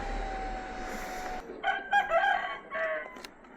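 A rooster crows loudly nearby in a stretched, wavering call, following a stretch of Kawasaki ZX-10R sportbike engine-like rumble that cuts off abruptly.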